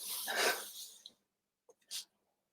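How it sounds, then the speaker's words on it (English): A pet dog worrying and tearing at something nearby: a rough, noisy rustling burst for about a second, then quiet, a couple of small clicks and a short sniffing snort. "I can absolutely hear my dog ripping apart something"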